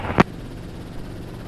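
Helicopter flying over the Great Salt Lake, a steady low rotor and engine rumble heard from the cabin, with a brief sharp burst near the start.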